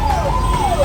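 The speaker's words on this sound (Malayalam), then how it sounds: "ആംബുലൻസും പോലീസ് ജീപ്പൊക്കെ." Ambulance and police jeep sirens wail on a hot street in Delhi near India Gate. A steady rising and falling tone sounds over loud traffic rumble.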